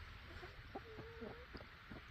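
Hens sitting on a person's lap while sunbathing make a few soft, low clucks and murmurs, close but quiet over a steady background hiss.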